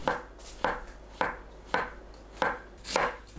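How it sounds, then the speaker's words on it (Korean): A knife thinly slices king oyster mushroom on a cutting board, six crisp evenly spaced cuts landing about every half second, close and clear with no other sound. "남은 부분과 갓 부분은 칼로 얇게 썰어줍니다"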